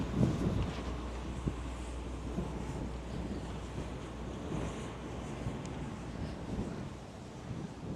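Strong wind in a Hong Kong village roars and buffets the microphone in a steady, heavy rumble that lasts throughout, with no voices.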